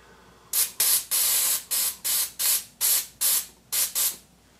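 A spray can fires about ten short, loud bursts of hissing spray, close up, in a fairly even rhythm with brief gaps between them and no voices.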